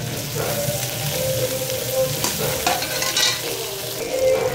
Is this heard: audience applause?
no